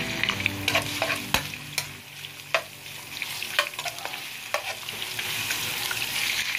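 Ginger sizzles in a pan already used for cooking, for a salmon belly sinigang sa miso, with a constant frying hiss broken by sharp scrapes and clicks of a utensil stirring at irregular intervals, close up and without talking.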